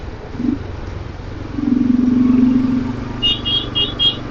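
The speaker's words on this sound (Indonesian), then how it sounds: "Kalau di Medan jalan padat gini udah dibilang macet nih kawan-kawan." Motorcycles and cars crawling through a congested Medan street, steady engine rumble with a long horn blast in the middle and a series of short high beeps near the end, close by.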